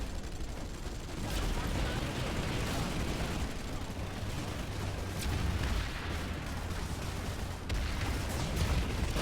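Sniper fire in Planetside 2 cracks out as a few sharp, sparse shots over a dense, constant wash of battle noise, sounding moderately distant and partly buried in the roar.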